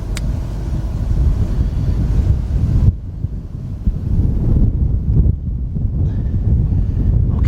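Strong outdoor wind buffeting the microphone beside a 2003 Chevy Tahoe under repair, loud continuous roaring gusts with a brief lull partway through, no talking.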